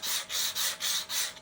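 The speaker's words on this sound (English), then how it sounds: "simple, straightforward sandpaper on a block," Five steady back-and-forth strokes of sandpaper on a block rasp against a model ship's hull, rhythmic and close, with brief pauses between passes.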